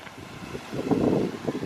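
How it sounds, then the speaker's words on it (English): Gusty wind rumbles against the microphone outdoors by a pickup truck, swelling louder midway then easing, a low uneven buffeting with no voices. "And it is really windy today."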